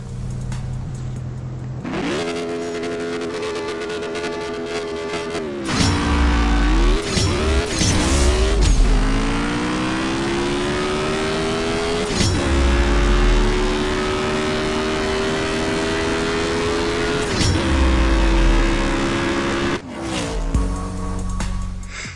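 A drag race car in the CSR 2 racing game accelerates hard and loud, its engine pitch climbing steadily and dropping sharply at each of several quick gear shifts, running continuously with no talking.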